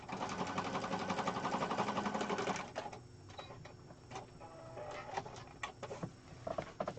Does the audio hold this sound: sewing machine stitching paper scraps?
yes